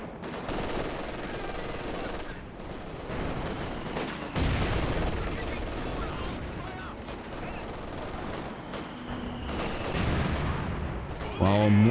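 A Vickers machine gun lays down suppressing fire in a competitive video game match, steady rattling bursts mixed with other gunfire and blasts under continuous commentary.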